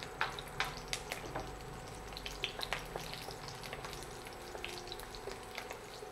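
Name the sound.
garlic frying in hot ghee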